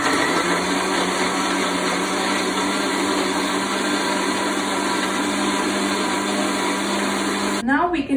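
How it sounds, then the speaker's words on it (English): An electric blender whirs loudly and steadily as it blends mango milkshake ingredients in its jar, a continuous motor drone that stops abruptly near the end. "now Mama is going to blend it"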